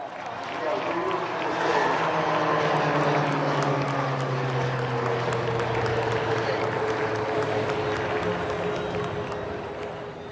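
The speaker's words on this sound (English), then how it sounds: "is the HTT-40 aircraft for the first time ever in an aerial display" An HTT-40 trainer aircraft flies in an aerial display over Marina Beach in Chennai, its engine a loud sustained drone that swells and then fades slightly across the pass, with a crowd and a public-address voice underneath.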